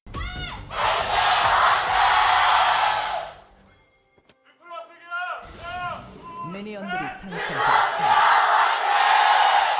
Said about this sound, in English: It's a cheer battle in here.